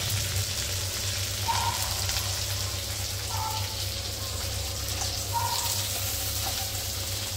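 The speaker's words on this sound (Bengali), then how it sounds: "এবার কি কাঁকড়াটা ফ্রাই হচ্ছে নাকি?" Crab frying in a pan gives a steady, even sizzle throughout, with a few faint higher clicks and tones rising over the constant hiss.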